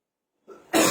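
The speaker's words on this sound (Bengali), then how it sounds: "আমার এখানে ঢুকলে এরকম কাশিটা বেরিয়ে যায়।" A single short, harsh cough bursts out after near silence during a lecture on inheritance law.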